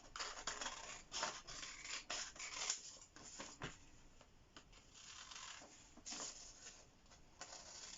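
Scissors snip roughly and quickly through fabric for a reversible handbag: a close, steady run of rasping cuts and rustling cloth, fairly quiet, with no talk over it.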